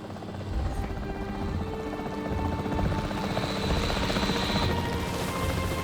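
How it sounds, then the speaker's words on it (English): Capture team helicopter in Jurassic World Evolution 3, its rotor thumping steadily and growing slightly louder and closer over a constant engine whine. "The priority needs to be tranquilizing it with the capture team chopper."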